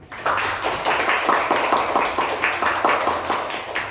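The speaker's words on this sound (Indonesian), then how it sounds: "Tepuk tangan dulu untuk kelompok 1." A classroom of students claps for a group presentation, a steady rhythmic patter of many hands in unison throughout, close and fairly loud with no talking.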